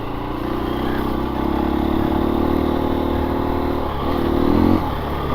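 A 2024 KTM 350 EXC-F dirt bike engine running on a rocky two-track trail, a loud steady buzzing drone that rises and dips as the throttle is worked, close by, with no talking.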